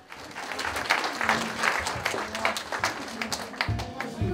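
Audience applause breaks out at a snow festival soba-eating contest, a steady wash of many hands clapping through the whole stretch, with a few voices calling out beneath it.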